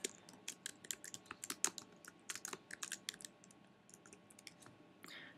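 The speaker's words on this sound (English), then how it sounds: "Type in the product number" Fingers type on a computer keyboard while product data is entered, giving close, quiet bursts of crisp key clicks at an uneven pace, with a short lull before a final flurry.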